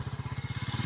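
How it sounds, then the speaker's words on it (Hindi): A motorcycle engine running in a village in Punjab, Pakistan, putting out a fast, regular low chugging pulse, steady and fairly close for a brief moment. "मोटरसाइकिल साढ़ा आ गया"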